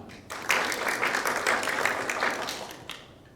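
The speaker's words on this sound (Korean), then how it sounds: "박수로 맞아주시기 바랍니다" Audience applause greeting a professor at a 2023 joint academic conference session, a dense wash of many hands clapping that swells quickly, holds steady for a few seconds, then begins to taper off.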